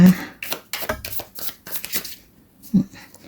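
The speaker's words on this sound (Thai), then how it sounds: "สับไพ่ไม่เก่งเนาะแม่หมอ" Tarot cards are shuffled in quick, papery riffling bursts and soft slaps, close and fairly loud, in an irregular rhythm with a brief voice partly mixed in.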